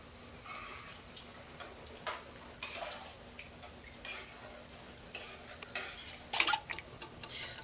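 A spoon stirring chili made with beef broth in a metal pot, giving repeated soft scraping strokes and light clinks against the pot's sides, fairly quiet, with a clearer clatter near the end and no talking.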